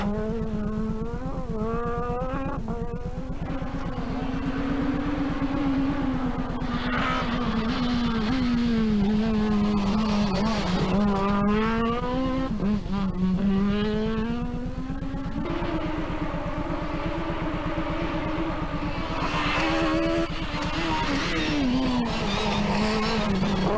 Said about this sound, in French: Vous avez eu droit à un tour en Citroën Xara T4 dans une spéciale de nuit.